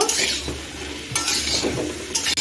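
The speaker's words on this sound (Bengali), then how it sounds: "এখন আমি সব কিছু মিশিয়ে ভালো করে কষিয়ে নিচ্ছি।" A spatula stirs and sautés vegetables with turmeric powder in a hot pan for a Bengali vegetable dish with bori and drumstick stems, giving close, continuous sizzling with scraping strokes and a few metallic clinks.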